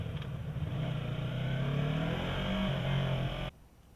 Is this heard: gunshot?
no